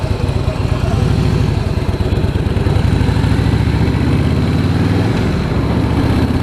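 A 2016 Harley-Davidson Fat Boy S motorcycle engine runs loud and close, a deep, throbbing rumble with a steady pulsing beat that lasts the whole time, while someone speaks over it.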